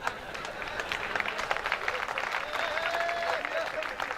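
Weak, scattered applause from a Hindi comedy poetry gathering audience, a thin steady patter of hands lasting several seconds with voices murmuring and calling underneath.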